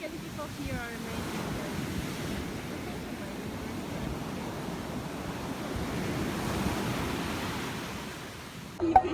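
Sea waves wash continuously along a shore in Barcelona, a broad steady roar of surf with wind rushing past the microphone.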